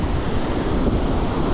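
Strong wind at the sea roars against the microphone in a steady broadband rush, with surf churning underneath and no voices.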